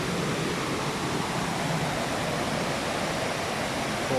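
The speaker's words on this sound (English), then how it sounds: "Waterfall here." Waterfall on the River Derwent, once used to drive water wheels, gives a steady, dense roar of rushing water that stays even and close throughout with no other sounds.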